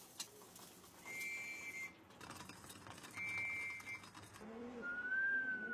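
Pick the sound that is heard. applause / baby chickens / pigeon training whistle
pigeon training whistle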